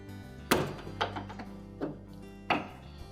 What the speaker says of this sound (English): You should hear it snap into place when you have it pushed all the way back.